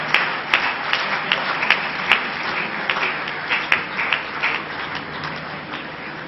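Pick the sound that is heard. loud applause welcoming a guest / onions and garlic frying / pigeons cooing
loud applause welcoming a guest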